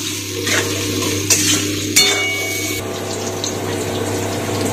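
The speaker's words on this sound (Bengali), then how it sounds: "আলু আমার ভাজা হয়ে গেছে" Potatoes fry in a pan with a steady sizzle, interrupted by a couple of sharp scraping stirs and clinks near the start; close and fairly loud with no talking.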